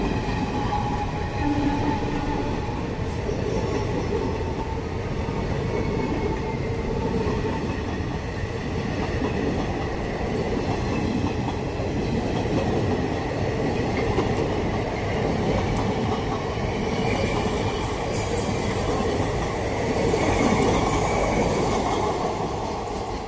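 An express train races past at high speed on a busy line near Howrah–Bardhaman, a loud, steady roar of wheels and rushing carriages that holds for over twenty seconds, with faint high squeals above it and no voices.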